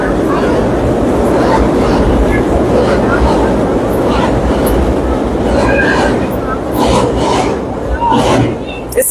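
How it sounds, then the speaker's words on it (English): A train rolls past on an outdoor line, producing a loud, steady rumble with rhythmic clatter and occasional high squeals as it goes by, then fading slightly near the end. "let the train go by"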